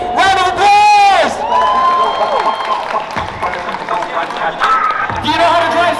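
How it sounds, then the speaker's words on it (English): A meet-and-greet crowd claps and whoops, with loud cheering and shouts at the start and end and chatter and talking in between. "Everybody, round of applause!"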